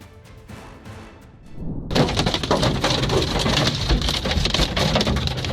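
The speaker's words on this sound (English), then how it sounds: "Large hail pounds a town in Poland" Large hail pounds a town in Poland, a dense, roaring clatter of stones striking surfaces that swells sharply after a softer start and stays loud and continuous throughout.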